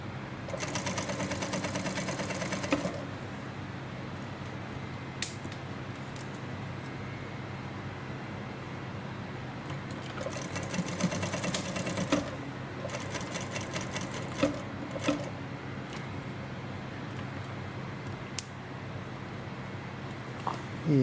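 An industrial sewing machine stitches fusible interfacing onto the facing of a sleeveless dress in quick bursts of rapid needle rattle, separated by pauses with scattered clicks and fabric handling.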